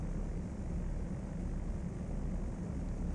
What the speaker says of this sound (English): I need to control my taxiing speed at this point as well